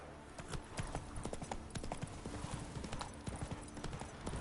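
Rapid, rhythmic hoof clip-clops of the horse Roach galloping in The Witcher video game, close and continuous with dense, evenly spaced strikes over a steady background wash.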